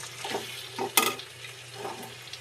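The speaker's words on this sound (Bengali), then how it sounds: "মাংসটাই কষানো হচ্ছে, দেখুন আপনারা মাংসটা কষাচ্ছি" Chicken pieces stir-fried in a pan for kasha, giving a soft steady sizzle broken by a few scraping stirs and one sharp clatter of the spoon against the pan, with no talking.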